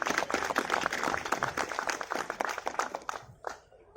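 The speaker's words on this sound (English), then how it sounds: "can we have a big round of applause for Safola Soya Bhurji?" Audience applause at the launch of Safola Soya Bhurji, a dense burst of many hands clapping that swells briefly then thins out and fades near the end.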